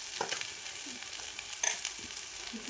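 Chicken frying in a pan with onions and homemade masala, cooked village style, gives a quiet, close sizzle broken by a few scraping stirs and clinks.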